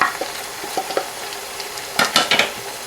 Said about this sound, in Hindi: सिर्फ तब तक इस मसाले को भूनना है कि जब तक टमाटर जो है बिल्कुल रिड्यूस नहीं हो जाता